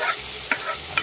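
Bitter gourd (pavakkai) stir-frying in a pan, a steady sizzle with two quick scraping stirs of the spatula, close and fairly loud.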